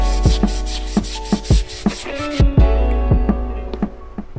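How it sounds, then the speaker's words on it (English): Rhythmic rubbing strokes of sandpaper on wood, close and steady, with a low hum running underneath. "we're gonna give everything a quick final sanding"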